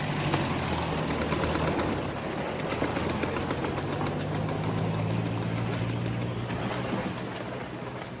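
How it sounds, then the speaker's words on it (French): Van engine idling close by, a steady low rumble with a faint knocking pulse running unbroken throughout, no voices. "Démarre pas, je te dis. Tu vas le faire fuir avec ton moteur."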